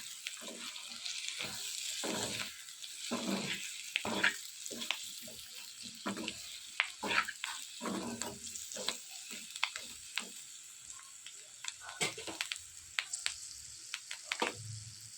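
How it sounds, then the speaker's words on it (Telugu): Chicken fry in a pan being stirred with fresh coriander, giving a steady low sizzle broken by repeated scraping and clattering stirs, close and fairly quiet, with no talking. "కొత్తిమీర వేసుకుని ఇదంతా బాగా కలుపుకోవాలి."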